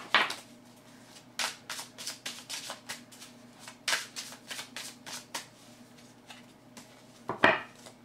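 A deck of tarot-style cards is shuffled by hand close by, giving quiet bursts of papery riffling and slapping in an uneven rhythm, with no talking.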